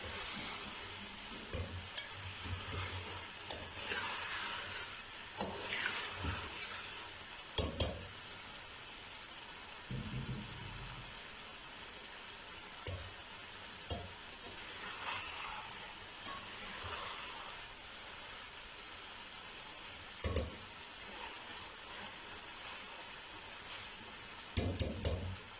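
Beef karahi cooks in a pan over a stove flame, with a soft continuous sizzle and hiss broken by scraping stirs and occasional clanks of the spoon against the pan.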